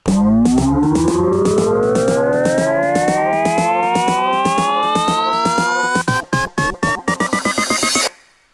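A bright synth riser sweeps steadily upward in pitch, chopped into rapid rhythmic pulses that quicken near the end before cutting off abruptly.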